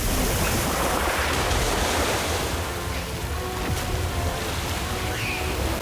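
The Orb of water spell in the Harry Potter: Magic Awakened video game gives a loud, dense rushing whoosh like surging water and wind, steady throughout and easing slightly midway.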